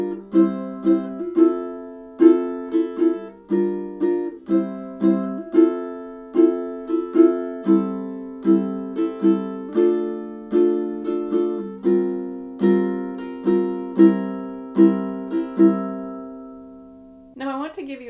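An acoustic guitar strums chords at 115 bpm, a steady rhythmic pattern of bright ringing strums played alone and close, ending on a final let-ring chord.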